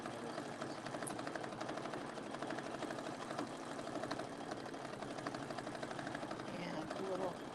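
A sewing machine stitches a quilt, running in a steady, rapid mechanical whir that continues through the whole stretch beneath a speaking voice.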